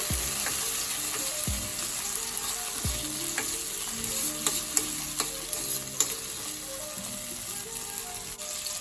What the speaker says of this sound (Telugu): ఒక చిన్న టమాటా వేసుకుంటున్నాను. ఇలా బాగా మిక్స్ చేసుకోవాలి.